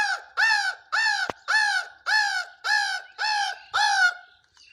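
Harsh, repeated caws in a steady rhythm of about eight calls, close and loud and with no talk, though these may be a man imitating a crow rather than real crows, with faint answering noises in the background.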